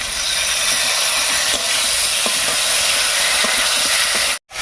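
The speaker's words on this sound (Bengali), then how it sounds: "আলুটা বেশ ভাজা ভাজা হয়ে গেছে এবার এর মধ্যে দিচ্ছি দিয়ে রাখা একটা টমেটো" Chopped tomato is added to potatoes frying in a pan, giving a loud, close, continuous hissing sizzle with a few faint clinks before it cuts off abruptly near the end.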